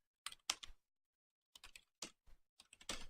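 Typing on a computer keyboard during game programming: quiet clusters of close key clicks, a short burst, a pause, then several quick bursts of taps, with no talking.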